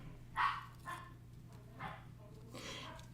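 Several short barks from a dog in a room, spaced irregularly across the moment and moderately loud, with a steady low electrical hum underneath and no talking.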